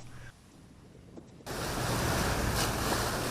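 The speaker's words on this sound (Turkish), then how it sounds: "Büyükçekmece sahilinde de lodos nedeniyle yüksek dalgalar oluştu." Storm waves crash on the Büyükçekmece shore of the Sea of Marmara in a southwest lodos gale. A quieter stretch gives way to a loud, steady roar of surf and wind that runs to the end.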